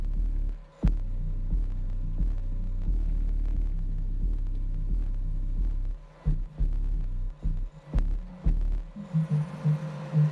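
A 10-inch car subwoofer mounted in an enclosure box pounds out deep, throbbing bass in a steady pulsing rhythm, loud and close, before the beat breaks into uneven bursts near the end; no one speaks.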